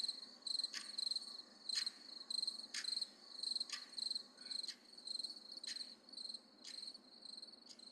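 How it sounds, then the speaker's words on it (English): Crickets chirp at night in quick, regular pulsing trills, a steady rhythmic series of bursts that sound fairly close and soft against an otherwise quiet background. "The sound of crickets and a clock ticking can be heard."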